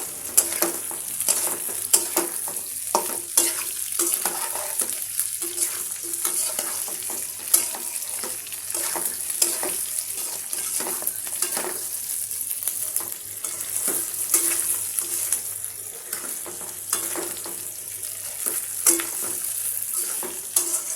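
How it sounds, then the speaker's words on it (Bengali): Chicken pieces dropped into a pan of half-cooked frying onions, sizzling steadily with scraping stirring strokes throughout, close and moderately loud with no talking. "পেঁয়াজটা অর্ধেক হয়ে গেছে, এখন হলো চিকেনগুলো দিয়ে দিচ্ছি।"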